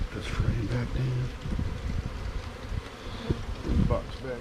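Honeybees buzz around a hive in a dense, close hum, with occasional individual bees passing near and a person speaking briefly.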